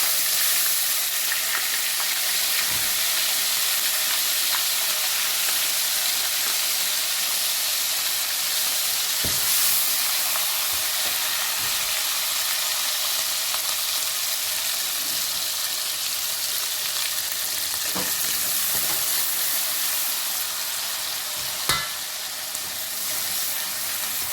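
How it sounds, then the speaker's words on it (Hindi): Spices with garlic ginger paste frying in a pot make a steady, even hiss throughout, with a few faint clicks and taps now and then and no voices. "इसे भून लेंगे"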